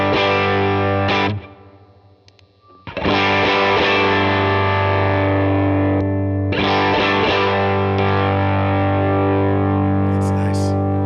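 An electric guitar played through an amp pushed slightly by a boost pedal, giving a sustained, driven tone with effects, a near-silent gap after the first second, then steady loud chords ringing for several seconds.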